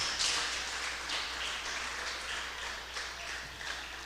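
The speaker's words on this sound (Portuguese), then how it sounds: "Você pode aplaudir ao Senhor por isso?" A church congregation at a Batista Nacional service applauds, a soft, steady wash of clapping heard from a distance with no voices, quiet throughout.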